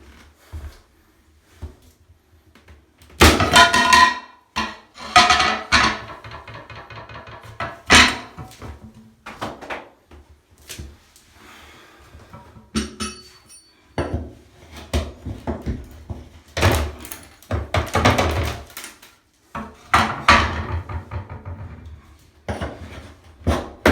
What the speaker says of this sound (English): What tends to happen is that they all fall out at the same time.